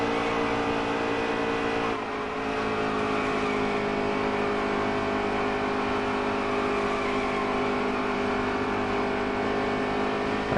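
Race truck engines in the NASCAR Heat 3 video game at Kansas, a continuous loud high-revving drone with a brief dip in pitch, then sustained steady roar with layered engine tones.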